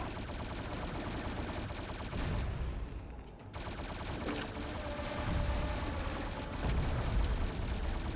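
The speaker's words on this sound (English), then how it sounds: "That's a lot of bullets." Heavy video-game gunfire from many bullets, a sustained rattling barrage of rapid shots with a short lull midway before it picks up again, loud and continuous with no voices.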